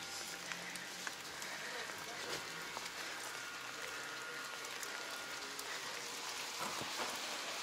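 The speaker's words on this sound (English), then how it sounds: "It's raining again." Steady rain falling on hard surfaces in Ponta Delgada, a continuous hiss with scattered drip taps, while a voice talks quietly underneath.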